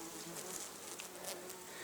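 Faint, steady buzzing of many insects, including bees, wasps, hornets and bumblebees, feeding on honeydew in a forest, continuous and distant-sounding with no voices.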